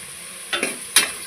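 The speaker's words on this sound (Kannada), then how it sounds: "ಇದನ್ನು ಸೇರಿಸಿ ಚೆನ್ನಾಗಿ ಮಿಕ್ಸ್ ಮಾಡ್ತಾಯಿದ್ದೀನಿ" Stirring a tomato mixture in a pan for prawn biryani, with a few short scraping strokes and a soft sizzle close by, two distinct strokes standing out over quiet frying.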